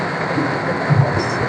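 A small amusement park ride train at a children's park runs with a steady low rumble and rolling drone, fairly close and even, with no distinct voices.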